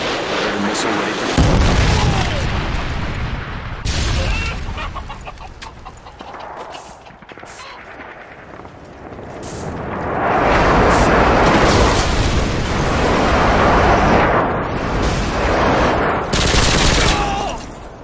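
A Predator missile strike in the video game Call of Duty: Modern Warfare 2, a loud chaotic stretch of booming blasts and bursts of gunfire, swelling again near the end, with in-game voices in the mix.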